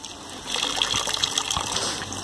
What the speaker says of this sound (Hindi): यहाँ से पानी जाता है सीधी पानी की टंकी में